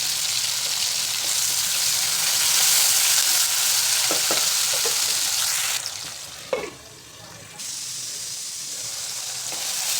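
Tomato and curry leaves sizzle loudly while being sautéed in a pan, a dense close hiss with a few scraping stirs, briefly dropping away before the frying resumes.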